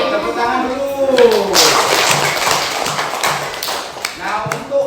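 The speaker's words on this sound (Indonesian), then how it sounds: "Tepuk tangan dulu." Children clapping in a classroom, a quick run of close, sharp claps and taps mixed with several children's voices chattering and calling out over the top.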